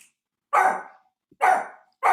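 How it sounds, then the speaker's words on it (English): A dog gives two sharp, loud barks about a second apart, with the start of a third at the very end and silence between them, close by indoors. "My dog, of course."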